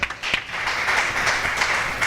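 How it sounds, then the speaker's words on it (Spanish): A church congregation applauds during a worship service, a dense, steady wash of clapping at moderate loudness that fills the short moment without a break. "Denle un aplauso al Señor"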